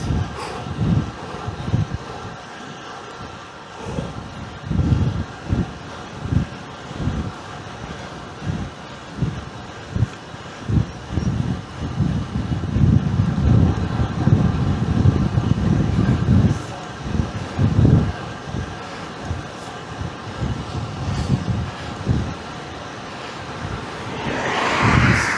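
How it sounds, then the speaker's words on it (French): Headwind blowing against a cyclist riding at around 38 km/h on a December Sunday, a steady rushing wind roar with gusty buffeting throughout. "Là, c'est plutôt vent de face."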